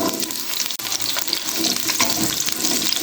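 Cauliflower frying in hot oil in a wok on high heat, a dense crackling sizzle with watery spattering and small pops throughout, close and fairly loud, with no voices.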